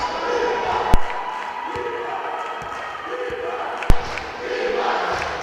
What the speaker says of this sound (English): And you can hear the crowd chanting